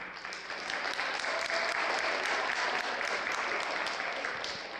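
Audience applause during a public-speaking lecture, a dense, steady wash of many hands clapping close by that holds at an even level for the whole stretch, with no voices on top.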